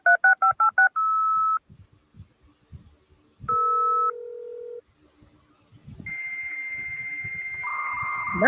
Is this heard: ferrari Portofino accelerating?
no